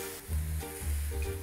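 Eggplant hits a hot pan of browned garlic and onion, giving a steady hissing sizzle that surges in brief pulses as the pieces are stirred.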